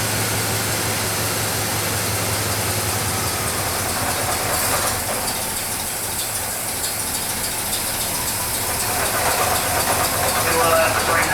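Cold 1964 Oldsmobile 98 V8 idling low and uneven after a carburetor swap, a steady rumble with light knocking under a broad hiss, running continuously without voices.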